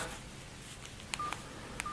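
Several short electronic key beeps from a Doro 410 GSM mobile phone, spaced irregularly over a steady background hiss, close and fairly faint.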